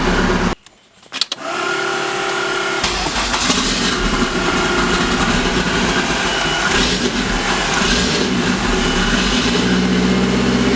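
A Honda K24 engine swapped into an MR2, running without its idle air control valve, cranks and catches, then settles into a loud, close, uneven idle that hunts and wavers throughout.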